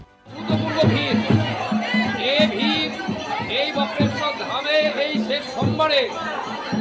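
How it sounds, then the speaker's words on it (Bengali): Dense crowd of Shiva devotees at Bakreshwar temple in Birbhum on a Shravan Monday, a close, busy babble of many voices with some laughter, steady throughout. "হাজার হাজার লোকের ভিড় লক্ষ্য ছাড়িয়ে গেল এখানে"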